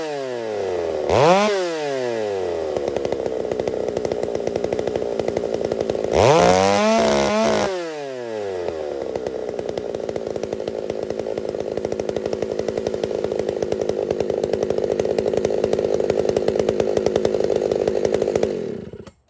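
Gas chainsaw with a stock chain, revved twice with sharp rising and falling engine pitch, then held at a loud steady high-revving buzz close by before cutting off.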